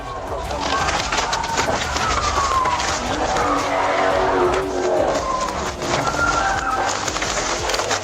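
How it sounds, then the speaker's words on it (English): A Dodge Charger in a police chase through city streets, tires skidding through a sharp turn with loud engine roar and screeching squeals, while a voice talks over the action. "the driver lost control while trying to make a sharp turn"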